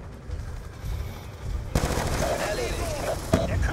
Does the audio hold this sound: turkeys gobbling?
no